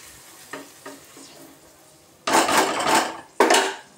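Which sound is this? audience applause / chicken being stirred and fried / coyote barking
chicken being stirred and fried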